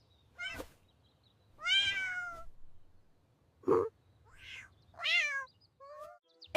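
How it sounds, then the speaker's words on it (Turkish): A cat meows several times in separate, clear calls with short pauses between them, close and fairly loud, with no talking. "Evet, bu bir kedi."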